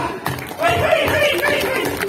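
An audience claps and chuckles at a Balinese comedy performance staged at a temple, the scattered applause swelling midway and mixing with crowd chatter and a performer's voice.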